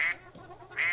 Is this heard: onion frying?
no